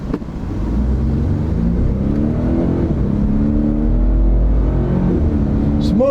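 A Toyota Tundra hybrid with twin turbos and an electric motor boost launches hard in a drag race, its engine rumble rising loud and steady with rising harmonics that step up through smooth gear shifts, close and sustained throughout.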